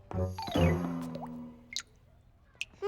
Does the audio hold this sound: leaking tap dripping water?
yes